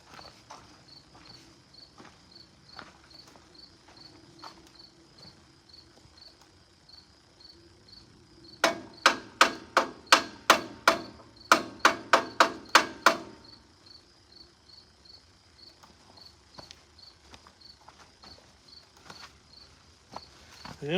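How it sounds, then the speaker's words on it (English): A decent-sized hammer delivers a rapid series of about a dozen sharp, loud whacks on a sawmill's machinery, set against a quiet outdoor background of chirping insects. "decent sized hammer and give it a whack."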